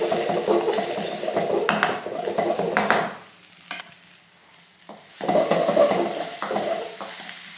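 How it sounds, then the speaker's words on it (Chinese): Beans tossed and stir-fried in a wok over high heat, with a hissing sizzle and repeated scrape and clatter of a metal spatula against the pan, briefly quieter midway before the stirring resumes, close and alone. "这个豆下去煸一煸炒，滑一滑锅， 下这个豆我们大火煸一煸"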